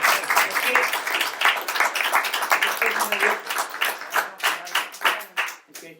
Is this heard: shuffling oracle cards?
no